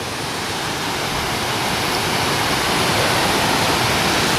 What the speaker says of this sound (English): River down there.